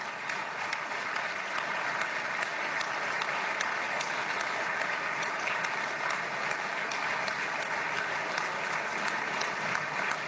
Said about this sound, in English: The applause will continue.